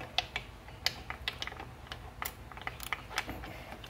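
Wrench working a 13 mm bolt on the lower unit of a 2017 Yamaha 115 SHO outboard, a quick series of faint, sharp ratcheting clicks in an irregular rhythm, close by and fairly quiet.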